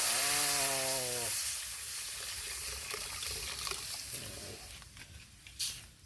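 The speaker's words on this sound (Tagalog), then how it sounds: "At ilagay na natin yung pangalawang gata guys." Second coconut milk poured into a simmering cooking pot over a smoky fire, a steady wet pouring and bubbling wash after a brief loud mechanical whine at the start, with a clatter near the end.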